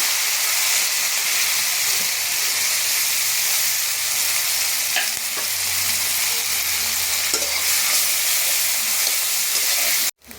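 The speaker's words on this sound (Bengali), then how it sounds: "এবার আমি পেঁয়াজ দিয়ে দিচ্ছি" Onions sizzle steadily in hot oil in a pan, a continuous bright frying hiss with occasional stirring scrapes, close and fairly loud, alone without talk until it cuts off abruptly near the end.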